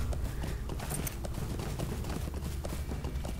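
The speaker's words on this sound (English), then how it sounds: "Come on, horse. Keep going." Horse hooves galloping in The Lord of the Rings Online, a steady rapid clip-clop of hoofbeats continuing loudly throughout without pause.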